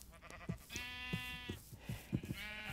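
Sheep in the Minecraft video game bleat in several drawn-out, wavering calls, close and clear, with soft footstep-like thumps between them and no talking.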